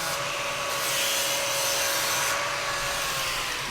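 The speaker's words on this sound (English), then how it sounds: "we're going to go back over with the sanding disc and take off any of these burrs on the edges" A sanding disc grinds burrs off the edges of a welded U-groove, giving a continuous, close, harsh whirring rasp with a steady whine running through it.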